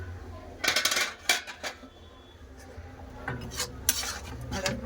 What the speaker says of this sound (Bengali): ডাল চাপা দিয়েছিলাম খুলে দেখে নেবো